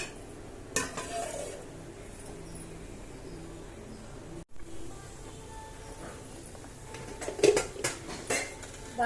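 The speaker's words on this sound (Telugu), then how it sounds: "నాకు ఎగరేయడం రాదు కాబట్టి గరిటెతో కలుపుతున్నాను" A ladle stirs curry in a home kitchen pot, scraping and clinking against the metal in scattered knocks, louder toward the end, with a faint background hum and no talking.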